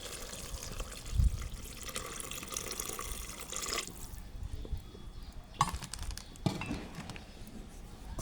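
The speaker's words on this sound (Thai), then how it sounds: "พอใกล้สุกเราก็เติมน้ำค่ะ" Water runs and splashes into a pot of nearly cooked chicken, a steady pouring trickle with a few clinks, then quieter dribbling toward the end.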